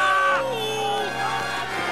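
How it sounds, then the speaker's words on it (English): Storybook sound effect of an army of ants roaring and charging a band of grasshoppers, a loud crowd-like burst of yelling and whooping voices that rises and then trails into shrill, scattered cries. "the ants charged the grasshoppers, who took off, screaming in terror."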